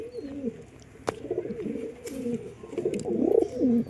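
Pigeons in a loft coo in low, rolling phrases close by, several birds overlapping, with a few sharp clicks and rustles between the calls.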